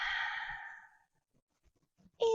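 A long audible exhale during a bodyweight workout, a single breathy sigh that fades out over about a second, followed by near silence and a sharp noise at the end.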